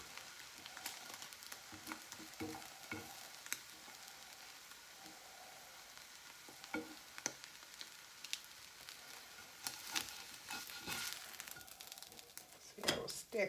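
An egg fries in oil in a cast iron skillet, giving a steady faint sizzle broken by crackles and pops, with a person talking over it now and then.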